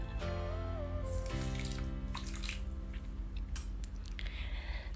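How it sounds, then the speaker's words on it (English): Hot water being poured into a cup of instant coffee and sugar for dalgona coffee, a continuous splashing trickle over steady low hum, close and moderately loud, with a brief clink near the end. "So I already poured coffee, sugar, and now the hot water."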